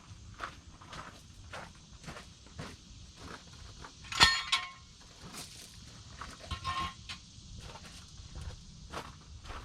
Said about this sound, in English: Noise alert. Move jack stands.